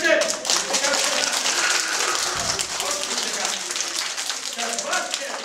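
A crowd claps in continuous applause, dense and steady throughout, with voices talking underneath.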